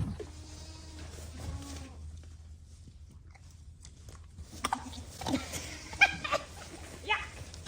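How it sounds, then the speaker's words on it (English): Fainting goats, billies among them, bleat in a goat barn: a few wavering cries near the start, followed by rustling, thumps and scattered animal noises as the goats are wrangled. "Wrangling goats, and including billies, which means I'm gonna smell like a billy goat."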